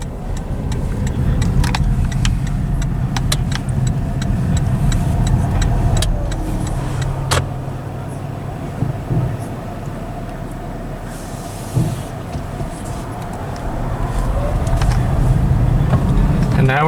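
Steady rumble of car traffic passing along a country backroad in Interlachen, Florida, heard from inside a moving vehicle, with continuous road and engine noise and a few brief swells as vehicles go by.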